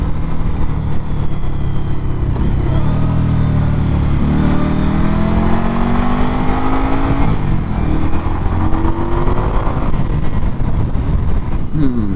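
Indian Scout Bobber motorcycle engine on a demo ride, a loud, steady V-twin drone with rising revs and gear-change dips running throughout, heard close with continuous wind rush.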